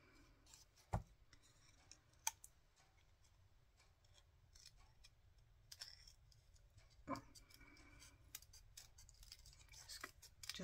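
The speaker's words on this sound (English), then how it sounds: "Do a little bit of cutting around the end." Scissors snipping around the edge of a handmade steampunk graffiti card, a few sharp close cuts scattered among soft rustling and handling noises.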